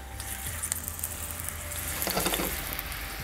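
Onion frying in hot oil in a pan for street-style noodles, a close, even crackling sizzle with light spattering pops and brief stirring scrapes.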